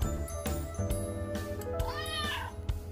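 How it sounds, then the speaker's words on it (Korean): A word-game app plays a cat meowing: a short series of close, loud meows and a rising yowl, alone without talk. "고양이"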